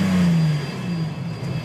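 A car engine revs, its pitch sliding down from a high whine and holding steady, loud and close with no voices.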